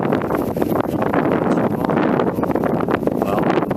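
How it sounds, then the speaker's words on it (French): Strong winter wind buffets the microphone in a steady, loud roar with gusty fluctuations throughout, outdoors at an aquaponics site on Réunion; no one speaks. "aujourd'hui on a beaucoup de vent, on est en hiver"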